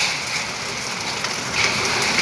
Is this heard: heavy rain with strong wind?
yes